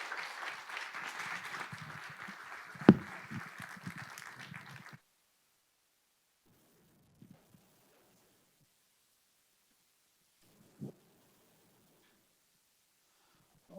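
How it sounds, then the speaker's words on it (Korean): Warm applause from a church congregation at a Sunday evening worship service, filling the first five seconds with one sharp clap standing out, then fading to near silence with a few faint thumps. "우리 나오실 때 큰 박수로 따뜻하게 격려해 주시면 좋겠습니다"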